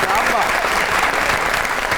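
A studio audience on a comedy talk show bursts into thick, continuous applause for a named actor, while voices carry on over the clapping.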